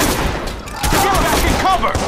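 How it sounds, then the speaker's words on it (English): Gunfire in the video game Watch Dogs during a prison escape, with bursts of shots crackling over a noisy firefight background. "I'm taking fire!"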